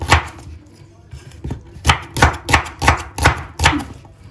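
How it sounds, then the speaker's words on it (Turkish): A knife chops through onions on a board, about eight sharp, distinct strokes in a loose rhythm, close and clear with no talking. "biraz kalın kalın şöyle doğrayın gitsin"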